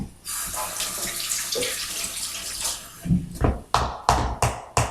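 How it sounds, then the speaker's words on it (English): Running tap water splashes as buttery hands are washed under it, a steady flow followed by several loud, sharp splashes and rinsing bursts near the end. "Mum's got butter on her hands, so just wash me."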